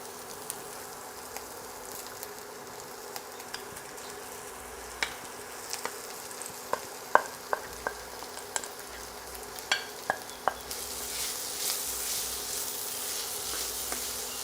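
Potatoes frying in a pan with chili and ginger: a steady soft sizzle with scattered clicks and stirring taps, rising to a louder, brighter hiss near the end, with no talk.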